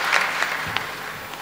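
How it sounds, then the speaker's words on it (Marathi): A crowd at a Marathi kirtan gathering claps to welcome students, a soft continuous patter of applause with a few sharper claps standing out. "एकदा जोरदार टाळी वाजवून या विद्यार्थ्यांचं स्वागत करा"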